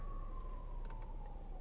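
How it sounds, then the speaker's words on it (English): An ambulance siren passes at moderate distance, its steady wail gliding gradually lower in pitch as it goes by over a constant low traffic rumble, with no one speaking. "And here comes the ambulance."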